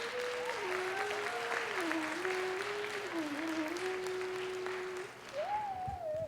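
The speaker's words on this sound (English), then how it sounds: "Can we please have another round of applause for that item?" Sustained applause from an audience after a classical dance performance, a steady wash of clapping lasting several seconds, moderately distant, with a faint tonal sound running through it.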